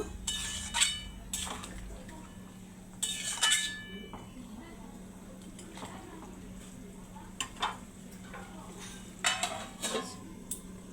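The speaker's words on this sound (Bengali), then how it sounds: "আবার একটু ভালো করে নাড়িয়ে চাড়িয়ে দেব।" Spiced curry stirred in a pot with a metal utensil: intermittent clinks and scrapes against the pot in short bursts over a low steady hum, with someone speaking between the strokes.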